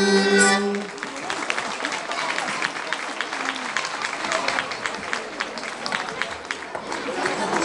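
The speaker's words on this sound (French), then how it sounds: "Merci pour vos applaudissements." Sustained applause from a crowd, steady clapping throughout with a brief tone at the start.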